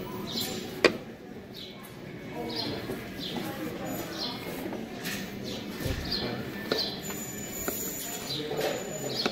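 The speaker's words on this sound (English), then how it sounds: "Is there actual birds inside here?" Pigeons or doves coo repeatedly inside a building, soft calls echoing at a moderate distance, with scattered chirps, a few knocks and handling noises throughout.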